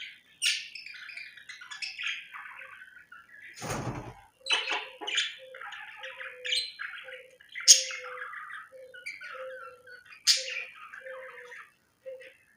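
Australian parrots chirp indoors in a house, a busy series of bright tweets and short squawky calls repeating every second or so, with one louder harsh squawk partway through, fairly close and lively.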